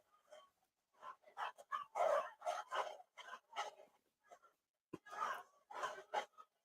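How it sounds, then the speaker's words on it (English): Small Chihuahuas bark in quick, sharp bursts with short gaps between them, faint and distant in the background. "you might hear in the background are actually not the Dobermans. Those are my Chihuahuas"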